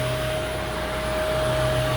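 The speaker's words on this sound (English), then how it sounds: "I like to vacuum as much of it as I can" A vacuum cleaner runs with a steady, loud whine and a high tonal hum, close and unbroken, with no talk.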